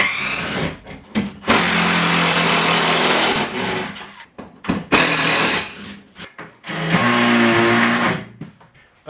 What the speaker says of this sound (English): So I need to get some screws out of the tub and get that ready to remove.